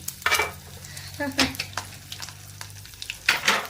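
A tempering of asafoetida and curry leaves, with fenugreek powder, fries in hot oil in a pan. The close sizzling crackles on and off, with spoon-stirring scrapes and light clatter of utensils, and no voices.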